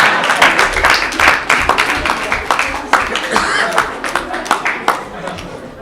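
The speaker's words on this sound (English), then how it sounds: "Ladies and gentlemen, another round of applause for Dynamo, please." Audience applause for the illusionist Dynamo at a House of Commons honours event, dense overlapping clapping with scattered laughter and chatter, filling the room steadily for several seconds.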